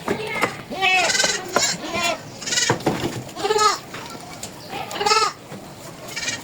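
A Beetal-cross dairy goat bleats several times close by, wavering calls spread across a few seconds, with a voice talking among them.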